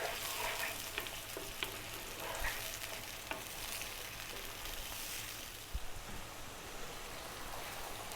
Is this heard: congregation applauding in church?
no